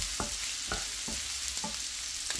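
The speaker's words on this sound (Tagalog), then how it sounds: "lutuin ko mabuti ang luya" Crushed ginger frying in a pan while being cooked before onion goes in, a steady sizzle broken by about six quick stirring scrapes at even intervals, close and alone.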